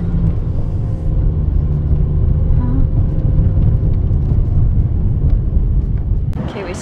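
A car climbs the steep hills of San Francisco, its engine and road noise making a steady low rumble from inside the cabin, with a short clatter near the end.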